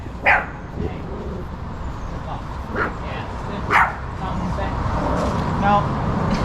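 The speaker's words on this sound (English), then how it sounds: "Are you an attack dog?" A dog gives a few short, sharp barks and yips with soft whimpering in between, outdoors on a street, with a low background rumble and someone talking nearby.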